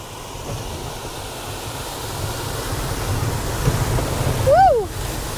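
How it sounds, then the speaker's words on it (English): Rushing, splashing water noise builds steadily under low engine rumble as a vehicle drives through a creek crossing at Hale Creek, swelling louder near the end, with a brief high whistling tone over the top. "we're just doing a water crossing here"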